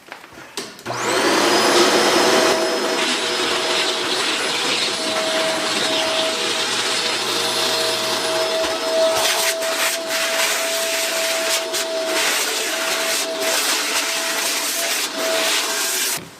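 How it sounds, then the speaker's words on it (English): A Shark Rotator upright vacuum cleaner starts up and runs steadily indoors on carpeted stairs, a loud close whine with a sustained high tone and occasional bumps as it moves. "It's the Shark Rotator, and it is still hands down my favorite vacuum."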